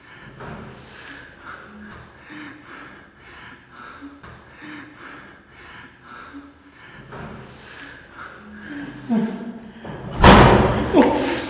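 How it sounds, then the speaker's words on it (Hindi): A door in a supposedly haunted building at night is slammed hard once near the end, a loud heavy thud that follows quieter bumps and breathing while people talk and gasp nearby. "वही दरवाजा बचा फिर।"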